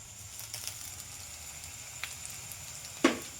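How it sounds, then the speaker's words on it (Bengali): Chopped garlic fries in hot oil after onions, with a quiet steady sizzle, a few light crackles and one sharper spatter near the end. "রসুন কুচিটা একটু ভেজে নেব।"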